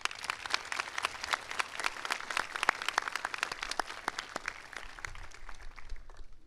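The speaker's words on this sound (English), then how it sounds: "let's show your families our appreciation for their support with a big round of applause" Crowd applause at a high school graduation ceremony, with many people clapping in a dense, crackling burst that holds steady before thinning out toward the end.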